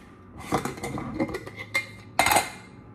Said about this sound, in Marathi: मी हा छोटा मिक्सर घेतला आहे, त्याच्यामध्ये मी ही थोडी पांढरी राई टाकणार आहे